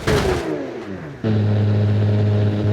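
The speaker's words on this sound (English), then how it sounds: "The engine still runs." A car engine keeps running after a high-speed crash of a 1960s Le Mans race car in the game Automation, first a falling rev sound, then a short gap and a steady, loud idle drone.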